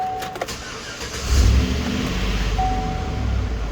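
A 2013 GMC Sierra pickup truck engine with newly installed catalytic converters starts and revs up, a low rumbling roar that swells then settles into a steady idle, close and alone.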